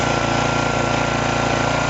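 Small discarded generator running with a muffler, giving a steady, even engine hum with a fine regular pulsing throughout, close by and alone.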